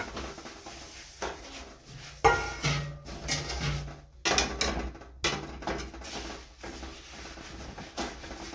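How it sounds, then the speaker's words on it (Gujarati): Sesame seeds go into hot sugar syrup for til chikki and are stirred in a pot, producing irregular scraping and knocking bursts of a spoon against the vessel, fairly close and loud, with short gaps between strokes. "હવે આપણે આ જે તલ રાખ્યા છે તેને આપણે આમાં આ રીતે એડ કરતા જઈશું અને હલાવતા જઈશું"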